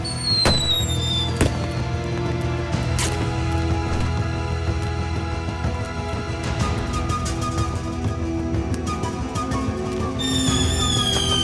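Animated fireworks crack and burst in quick succession amid a dense, loud mix of music and sound effects, with sharp whistling streaks.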